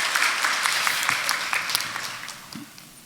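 A church congregation applauds during Sunday worship announcements, a dense steady clapping of many hands that tapers off toward the end.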